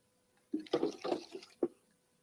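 Previously boiled water moves inside a sealed glass vessel, making a few soft, separate sloshing and gurgling splashes over about a second. It is quiet and close, with near silence before and after.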